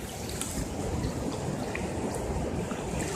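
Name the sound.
Pacific Ocean waves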